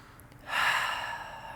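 A single deep audible inhale through the nose during a yoga flow, close and breathy, rising after a brief quiet moment and holding steady.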